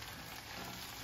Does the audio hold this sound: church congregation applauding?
no